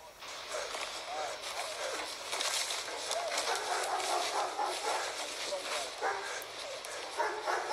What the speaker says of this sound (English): Dogs could be heard barking